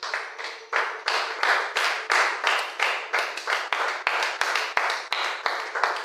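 Congregation clapping at a French-language night vigil church service, a steady rhythmic clap of many hands in even beats, loud and close, continuing throughout without talk.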